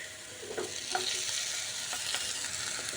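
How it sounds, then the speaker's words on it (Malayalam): Onions and chopped tomato frying in a pan for chicken curry, with a constant close sizzle and occasional soft stirring scrapes throughout, no voices. "ഇനി ഇത് നന്നായിട്ടൊന്ന് മിക്സ് ചെയ്തിട്ട് ഇതൊന്ന് വഴകാൻ വേണ്ടിയിട്ട് നമുക്ക് കാത്തിരിക്കാം"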